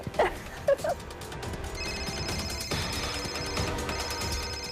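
A telephone bell rings in short bursts indoors during a Hindi TV drama, with a bright electronic tone and background music rising underneath.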